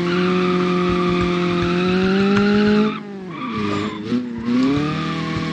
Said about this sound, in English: let's respawn it and let's get driving